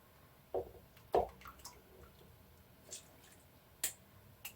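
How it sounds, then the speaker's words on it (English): Homemade eggnog is strained a little at a time into a glass juice bottle, giving a few faint, scattered drips and wet plops against quiet room background. "So I'm going to have to strain it into here a little at a time."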